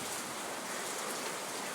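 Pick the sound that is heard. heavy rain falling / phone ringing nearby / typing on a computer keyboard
heavy rain falling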